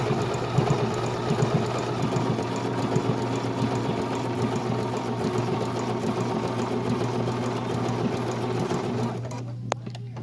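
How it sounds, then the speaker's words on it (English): A Bernina sewing machine stitches a zipper bag, its motor whirring in a steady, rapid mechanical hum for several seconds before stopping near the end with a faint click. "it will create a stitch at the beginning, or on the left side, and then it will take a stitch onto the right side"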